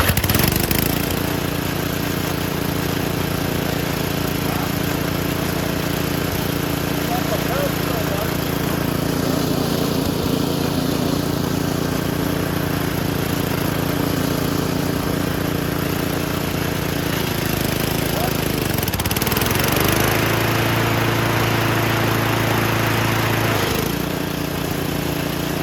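An old Snapper lawn mower engine runs steadily at a loud, close idle, holding a continuous mechanical drone throughout with a brief dip in pitch near the end before it settles back.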